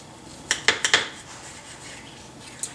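A knife cutting a slice of pumpkin bread gives a few quick, close scraping clicks against a board in one short burst, followed by quiet and one last faint tap.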